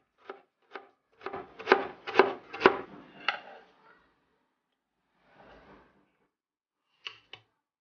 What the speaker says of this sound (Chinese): 挖出来的部分咱们切成丁